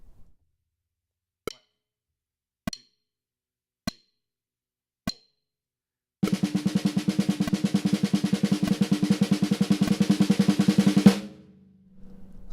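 Snare drum: four single evenly spaced hits, then a dense, fast double stroke roll in 32nd note triplets that runs for about five seconds and stops abruptly.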